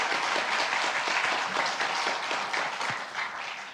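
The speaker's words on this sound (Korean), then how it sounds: "우리 교사분들 다시 한번 박수로 격려할까요" A church congregation claps steadily and fairly loudly for the Sunday school teachers after their special hymn, a dense, sustained applause with no voices over it.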